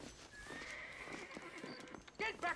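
A horse in the Red Dead Redemption video game neighs loudly near the end, with hooves clopping earlier amid a busy game mix and someone speaking.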